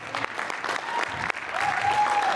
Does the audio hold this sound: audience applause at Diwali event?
yes